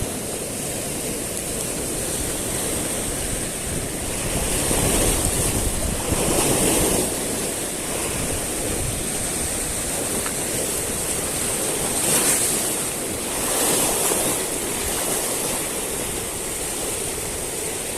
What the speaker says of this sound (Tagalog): Ang laki ng mga alon.